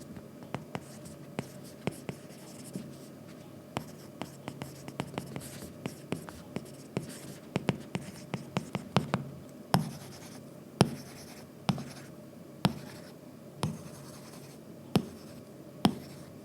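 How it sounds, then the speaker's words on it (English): Stylus writing on an iPad fitted with a paper-like screen protector, giving a close, quiet run of scratchy strokes and sharp taps in irregular rhythm. "Here's my iPad, which has a paper-like screen protector installed."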